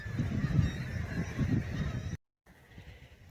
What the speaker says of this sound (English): I think I'm more fascinated with the birds behind me.